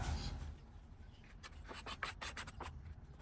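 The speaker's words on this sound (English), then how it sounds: "Walnut shaving." Hand tool shaving a walnut board for a magnetic tool holder, a run of short rasping strokes in quick rhythm, close and moderately quiet with no talk.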